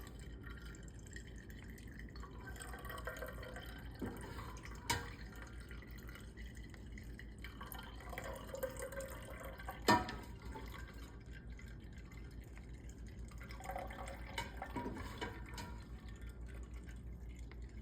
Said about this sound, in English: I'm just gonna get that hot milk in each of these.